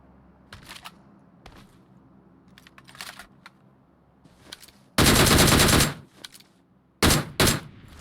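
Gunfire in PUBG Mobile: a long, loud automatic burst near the middle and two short bursts near the end, with scattered quieter shots and clicking taps between.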